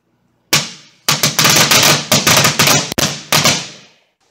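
Firecrackers explode inside a microwave: a rapid series of sharp, loud bangs and crackling pops, closely spaced and echoing in the confined space, then a brief fading rattle.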